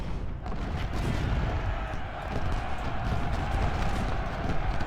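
Cannon artillery fire in the Civil War strategy game Ultimate General: Civil War, a dense continuous rumble of booming shots and battle noise with a cavalry charge, loud and unbroken.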